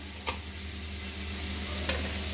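Onions frying in a pan give a faint, steady sizzle, broken by two brief scrapes of stirring.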